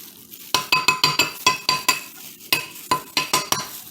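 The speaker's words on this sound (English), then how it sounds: "a spoon to scoop it in there. So you just want to spread that around in there." A spoon scoops and spreads vegan filling into bell pepper halves, making a quick series of close, sharp metallic clinks and scrapes in uneven bursts, with no talking.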